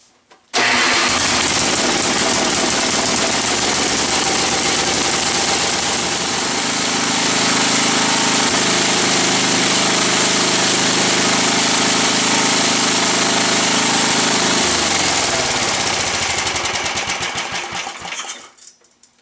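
An old snowblower's small engine starts and runs steadily at close range, a loud, continuous mechanical drone that shifts pitch partway through before cutting out near the end.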